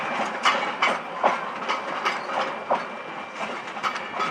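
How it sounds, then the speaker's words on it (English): A passing train on the Drysdale to Queenscliff line on the Bellarine Peninsula, heard as a steady run of rhythmic clickety-clack wheel beats, moderately close and alone. "That's the train from Drysdale to Queenscliff."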